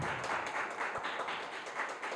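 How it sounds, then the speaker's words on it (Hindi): Audience applause at a drug de-addiction centre event, a continuous patter of many hands clapping at moderate level for the whole stretch. "बताइए, तालियों से बता दीजिए।"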